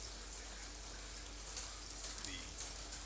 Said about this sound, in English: The rainfall in the background, the pitter-patter of the raindrops themselves.